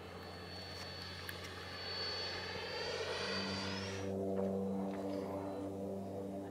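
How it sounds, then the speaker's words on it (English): Freewing 90mm F-15 Eagle RC jet making a low pass over a runway, a steady loud turbine whine with a rising then falling pitch sweep as it passes close by, the roar holding strong throughout. "Low pass over the runway."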